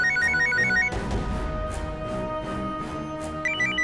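A mobile phone rings in a courtroom with a repeating electronic tone at the start and end, partly masked by dramatic background music and a rumbling swell in the middle.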